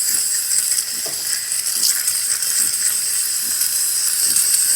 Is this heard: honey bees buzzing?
no